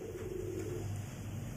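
Low, soft cooing notes from a pigeon or dove-like bird in an aviary at a gathering of ornamental pigeon and songbird hobbyists, short and steady over a constant background hum.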